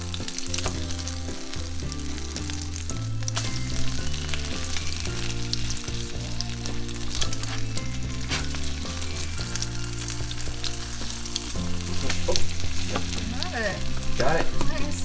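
A canned tuna hamburger steak fries in a pan just after being flipped, with a loud, continuous close sizzle, occasional spatula scrapes and no voices.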